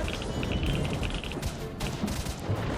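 Gunfire in the video game S.T.A.L.K.E.R.: Shadow of Chernobyl: rapid, overlapping shots and crackling bursts in a continuous fusillade, fairly loud, with no talking.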